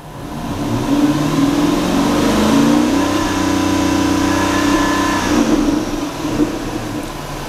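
A Dodge Hellcat Hemi V8, being checked for engine tick, revs up to around 3,500 RPM and holds there. The loud, close engine note climbs in the first seconds, sustains steadily, then eases back.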